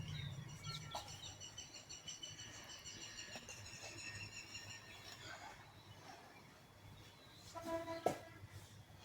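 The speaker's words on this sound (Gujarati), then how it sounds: "મોરલા પણ બોલે છે જો" Peacocks calling outdoors near a Mahadev temple among bilva trees, two faint, distant wailing cries, one early and a louder one near the end, over quiet ambient hiss.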